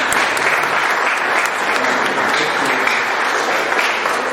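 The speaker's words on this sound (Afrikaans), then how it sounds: "En julle vir hulle 'n hande klap gee." A church congregation claps loudly for volunteers in a thick, even wash of applause that carries on without a break from start to finish.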